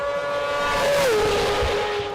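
A racing sidecar with a standard 600cc four-stroke bike engine on slick tyres screams past at high speed, a loud sustained whine that drops sharply in pitch as it passes, then fades away.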